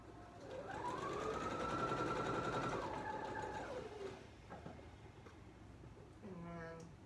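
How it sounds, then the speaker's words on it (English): A sewing machine stitches fabric in a quiet room with a steady, fast mechanical whir that runs for a few seconds and then stops, while people talk nearby. "you press with your foot, and just hold your fabric flat and guide it through"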